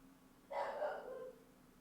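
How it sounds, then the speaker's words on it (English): A single dog bark, a drawn-out yelp-like howl lasting under a second, moderately close in a quiet room. "Sorry if you guys can hear my dogs as well too."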